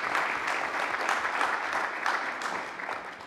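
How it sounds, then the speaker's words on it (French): Audience applause at a community council meeting fills the room in a steady, dense wash of clapping that stays even and sustained throughout. "On peut l'applaudir."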